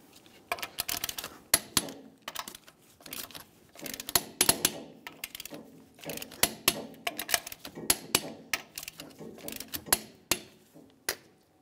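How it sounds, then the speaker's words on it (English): A torque wrench tightens the lug nuts in a crisscross pattern on a rear wheel of a 2002–2005 Ford Explorer. Rapid, close metallic ratchet clicks and ticks arrive in repeated bursts throughout. "let's torque these in a crisscross manner."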